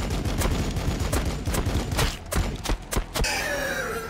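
Rapid bursts of gunfire from a Warhammer 40k Battlesector battle with Adepta Sororitas against Tyranids, loud dense volleys of shots cracking in quick succession for several seconds before a whooshing tail, with no talk.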